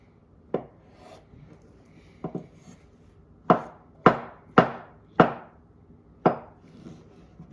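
Knife cutting avocado into cubes for a Caesar salad, sharp board knocks coming singly then in a quick run of four before one last chop, close and dry with no talk.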